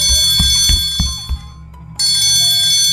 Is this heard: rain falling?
no